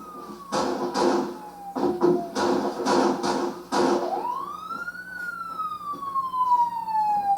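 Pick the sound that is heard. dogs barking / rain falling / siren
siren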